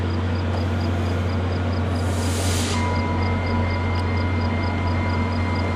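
Via Rail train number 88, hauled by locomotive 6407, passes with a steady heavy rumble. A brief hissing swell comes midway, and a faint rhythmic pinging tone runs throughout.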